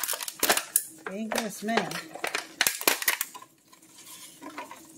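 A knife slices grapes on a cutting board for a chicory-grape salad, giving a few short, light clicks and taps, mixed with a person talking nearby.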